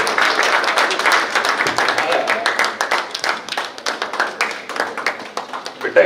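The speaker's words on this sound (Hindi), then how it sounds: "तालियां तो जोर से" An audience claps loudly and steadily at a gathering on art, craft design and films, producing a dense patter of hand claps that holds for several seconds, with voices faintly mixed in.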